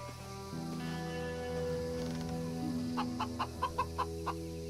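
Chicken clucking in The Church in the Darkness video game, a run of short, evenly spaced clucks rising at the end over a steady droning musical background.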